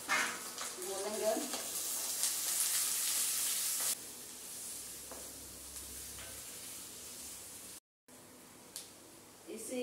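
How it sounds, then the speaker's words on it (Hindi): Finely chopped onion and a handful of curry leaves frying in oil toward brown for sprouted moong dal, a close hiss that is strongest early and eases to a quieter sizzle, with brief voices near the start and end. "एक प्याज को छोटे छोटे टुकड़े में काट लिए हैं, 10-20 कड़ी पत्ता है। इसको हम ब्राउन होने तक भूनेंगे।"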